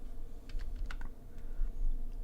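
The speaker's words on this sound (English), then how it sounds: "So type in decode." Typing on a computer keyboard during an Arduino date and time tutorial, a short run of close, crisp key clicks in an uneven rhythm with quiet background hum.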